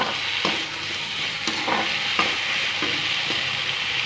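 A spoon stirs fish curry with potatoes, ridge gourd, tomato and onion frying in a pan, a steady sizzle with scraping strokes every second or so, close and loud with no talking.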